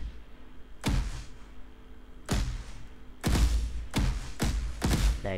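Gunshots striking surfaces in an Unreal Engine third-person shooter game, five sharp impacts in an uneven rhythm, each a loud broadband crack with a short thud, the last three coming in quick succession.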